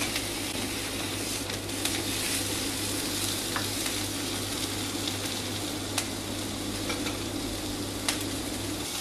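Meat sizzles steadily in a dry pan with thyme and garlic, a dense continuous frying hiss up close, with a few faint clicks and occasional stirring touches throughout.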